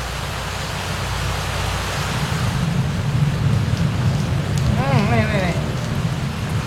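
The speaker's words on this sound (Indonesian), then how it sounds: "Petirnya luar biasa." Heavy rain pours steadily with rolling thunder building in the middle, loud and continuous; a voice briefly speaks partway through.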